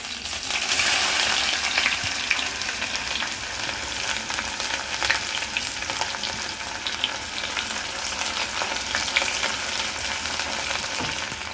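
Chopped onions frying in a pan, loud dense close sizzle holding steady throughout with small crackles and light stirring, no talk.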